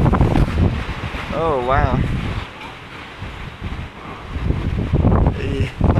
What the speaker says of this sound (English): Super quick wind.